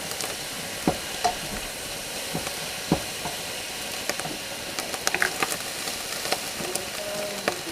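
Beef and snap peas stir-fry in a hot pan, a steady sizzling hiss broken by scattered clicks and scrapes as the food is tossed, close and without talk.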